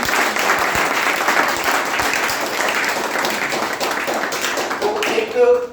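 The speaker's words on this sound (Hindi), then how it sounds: "तालियां बजाएं" Strong, steady applause from an audience at a student event, dense clapping that holds at an even level and then rises briefly at the end, with faint voices mixed in.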